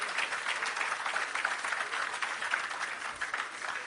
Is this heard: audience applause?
yes